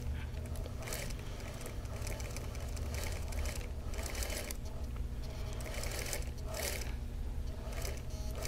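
A sewing machine runs steadily through a seam, joining two laser-cut quilt pieces for a Wheel of Mystery block. The motor hum is continuous and near, with a faint rapid needle rhythm and occasional small mechanical clicks, and there is no talk.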